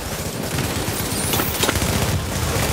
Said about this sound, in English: Turret activated at Alpha.